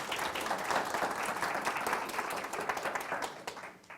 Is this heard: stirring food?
no